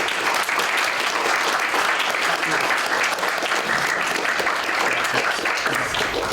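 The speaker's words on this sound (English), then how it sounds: "Round of applause for Cambridge." Loud, sustained audience applause at a student quiz championship final between university teams, dense steady clapping from a crowd for the full stretch.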